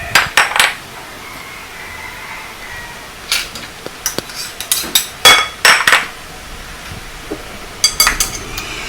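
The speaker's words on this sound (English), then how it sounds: "you start by mixing all the dry ingredients together" Dry baking ingredients mixed in a bowl, with clinks and scrapes of utensil against bowl coming in short irregular bursts close by, separated by quiet gaps.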